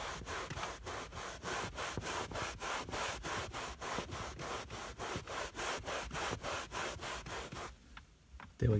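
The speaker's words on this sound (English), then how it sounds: "we'll wipe it with the microfiber gently like I talked about" A microfiber cloth gently wiping the Alcantara fabric headliner of a BMW M5, giving a steady run of close, soft brushing strokes in an even rhythm that stops near the end.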